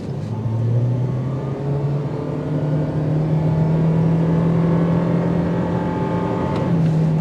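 A 2023 Toyota Prius XLE hybrid engine running steadily as the car accelerates, its hum rising gradually in pitch and holding loud and close, with a brief shift near the end and no talking.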